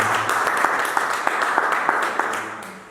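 A church congregation applauds during a French-language evangelistic service, a dense patter of hand claps with a few sharper, louder claps standing out, lasting a few seconds before fading at the end.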